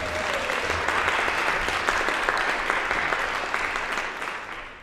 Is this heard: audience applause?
yes